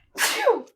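A single sharp human sneeze, close and fairly loud, bursting out and trailing off in under a second with no talk over it.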